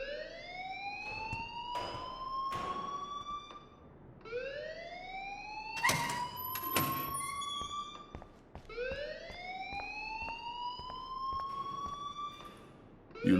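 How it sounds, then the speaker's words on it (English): Rising whooping alarm in the video game Life is Strange, three loud sweeping wails repeating every few seconds with sharp clattering hits between them, no voices. "please turn off that alarm since that's your job"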